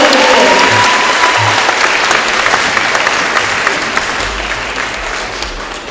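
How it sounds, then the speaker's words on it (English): An audience at a high school graduation ceremony gives sustained, loud applause that fills the hall and slowly fades, with a few voices underneath. "join with me one more round of applause"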